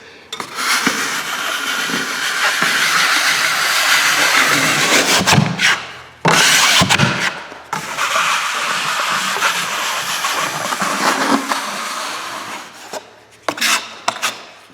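An 8-inch broad knife smoothing drywall tape, a long continuous scraping rasp close up with a few brief breaks between passes.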